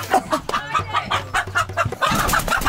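Turkeys clucking up close in a fast run of short, bright, rhythmic clucks over a low steady hum, growing busier and denser near the end.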